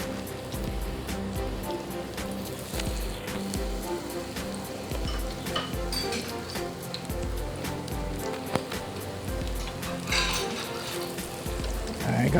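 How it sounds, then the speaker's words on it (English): Vegan food deep frying in hot oil under a basket set on top to hold it down, a steady close crackle and sizzle scattered with sharp pops throughout. "I'm gonna set the basket on top, weigh them down so they finish frying."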